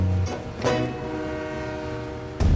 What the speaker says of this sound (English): Freight trains still ride these rails